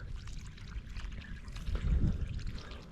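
Water pours out of a pipe in a steady, rushing flow outdoors, close by and moderately loud, swelling briefly toward the end with no talk over it.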